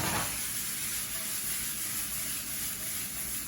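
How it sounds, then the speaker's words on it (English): Vegetables sautéing over high heat in a hot pan, giving a continuous bright sizzle and hiss that stays steady and close throughout, with no voices. "You want a good light saute, a good nice high heat, and you're good to go on these."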